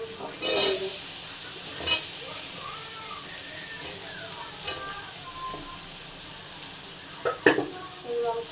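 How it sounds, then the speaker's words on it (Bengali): Elephant foot yam and prawns are stirred in a frying pan with a low steady sizzle, and a spatula scrapes and clinks in a few sharp, irregular bursts. "দিয়ে এখানে নাড়াচাড়া করে নিচ্ছি।"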